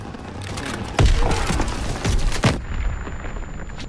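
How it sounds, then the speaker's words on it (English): A grenade bursts in a Call of Duty WW2/Vanguard battle, bringing a heavy boom with a low rumble. Sharp gunfire cracks come before and after it, then the sound cuts to a sudden near-silence. "Throwing a grenade!"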